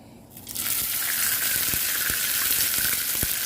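Fish dropped into a little leftover cooking oil erupts into a loud, steady sizzle after a quiet start, with a few soft clicks and pops scattered through the frying.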